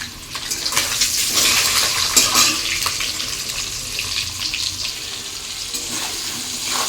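Bathua greens cooking in a pan with eggplant, lentil dumplings and a little potato give a steady close hiss and sizzle, louder at first and then settling to a softer bubbling fry, with no talking.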